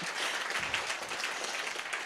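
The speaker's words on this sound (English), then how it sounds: "So I think that requires a bit of an applause." Audience applause at an evening academic event, a dense steady patter of many hands clapping continuously for about two seconds with no voices over it.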